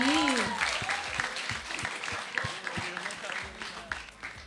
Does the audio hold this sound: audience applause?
yes